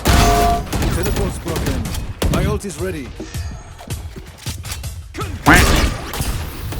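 Gunfire in the video game Valorant, several sharp bursts and single shots with crashing impacts, loud and close, interleaved with excited voices of players talking over the action.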